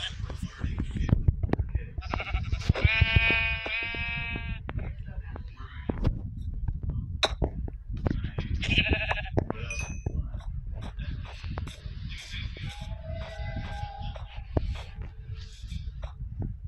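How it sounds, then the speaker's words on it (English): Sheep bleating in a video game, several short bleats rising above busy in-game noise with scattered clicks and dings, while a person talks throughout. "I need some sheep."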